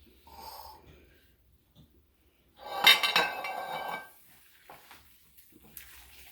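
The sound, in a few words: meatloaf mixture put into a glass loaf pan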